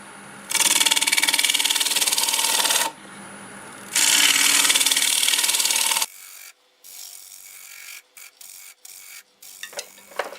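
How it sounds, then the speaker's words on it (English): A scraper shear-scraping fresh-cut English walnut spinning on a wood lathe, two loud sustained hissing scrapes of a couple of seconds each, then quieter intermittent scratchy contacts and small clicks. "So I'm going to do a little shear scraping and smooth that up."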